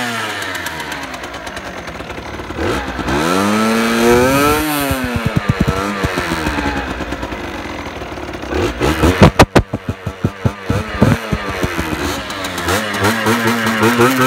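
A 2018 Beta RR 50cc motorcycle starts up and is revved, its small two-stroke engine rising and falling through sweeping pitch changes, with a burst of sharp, rapid revs near the middle, then settling into a buzzing, uneven idle close to the microphone.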